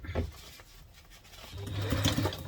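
Sewing machine top stitching a laptop briefcase, a short soft whir that ramps up into a denser, louder mechanical hum toward the end, close by.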